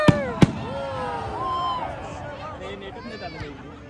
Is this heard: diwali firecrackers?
yes